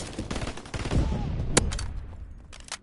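M2 Carbine gunfire in a shooter video game, a rapid spray of close, loud shots crackling in bursts across the stretch, with sharp individual cracks standing out near the middle and end.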